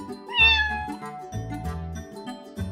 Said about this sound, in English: Kitten.